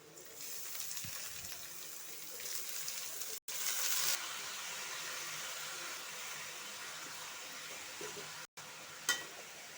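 Snake gourd fries with onions in a pan, a steady close hiss of sizzling that runs throughout, with a couple of brief cuts and a small clink near the end.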